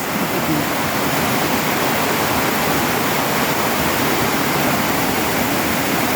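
Floodwater rushes near a house in a dense, steady roar, loud and continuous, with no break or voice over it.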